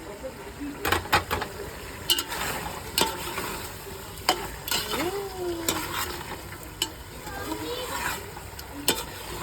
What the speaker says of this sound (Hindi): और अब इसमें मैं डाल रही हूँ 1 kg चिकन